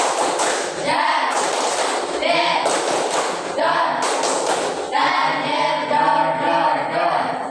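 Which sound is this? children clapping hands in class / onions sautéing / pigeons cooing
children clapping hands in class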